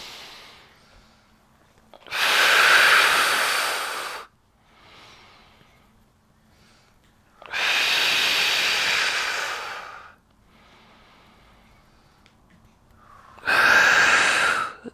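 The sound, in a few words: exhaling breath during a Pilates exercise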